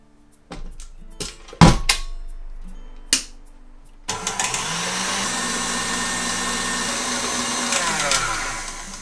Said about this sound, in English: with the whisk attachment and just whack it up high, and it's going to keep whisking and form a lovely glossy meringue